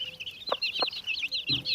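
A yellow hen clucks a few soft, short notes near her small chicks, whose rapid high peeping runs continuously over the top, close and clear.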